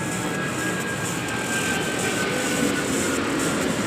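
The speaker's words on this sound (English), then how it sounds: "I'm outdoors and there's airplanes as well." Airplanes pass overhead outdoors as a steady, broad jet-engine roar that holds at an even level throughout, with no speech.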